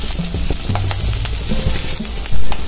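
Clam meat roasts over a medium flame in a pan, loud close sizzling with quick scraping and knocking as it is stirred, ending in a brief louder burst.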